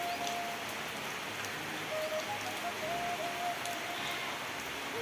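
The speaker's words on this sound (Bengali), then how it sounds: "দেখো বৃষ্টি পড়ছে" A soft, steady hiss of falling rain, faint and distant, with a thin bird-like whistle now and then.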